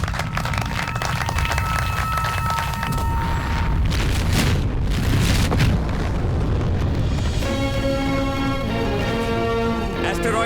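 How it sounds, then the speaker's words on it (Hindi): An asteroid blast in a movie scene, loud booming rumbles and roaring blast noise building to a heavy peak before fading into swelling music, with voices briefly heard. "Asteroid blast successful."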